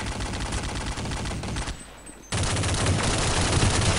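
Rapid automatic gunfire from a Kriss SV submachine gun in a Counter-Strike mod shooter game, loud and continuous bursts that cut out briefly midway before resuming at full intensity.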